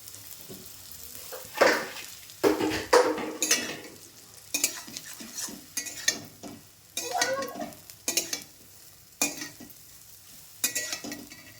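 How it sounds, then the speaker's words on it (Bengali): Leftover rotis fry in a pan, with a low sizzle under repeated sharp scraping and tossing strokes of a spatula and occasional clinks against the metal, close by and irregular. "তুলে নিয়েছি রুটিগুলো একটুখানি ভেজে নেব"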